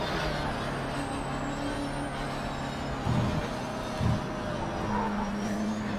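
A race car engine in the Project Cars 3 racing game, driven in VR with a wheel and manual shifter, drones steadily with a couple of short louder bursts and a high whine gliding above it.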